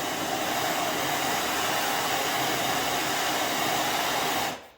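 A heat gun blows a steady, loud rush of hot air onto the swingarm of a Yamaha Raptor ATV, running continuously with no talk before cutting off at the very end.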